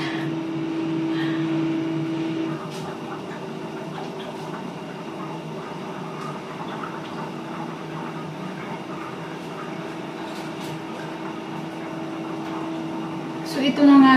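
A pot of sapsap fish soup with malunggay leaves at a steady boil, giving a close, continuous bubbling hiss over a low background hum, with a brief louder clatter just before the end.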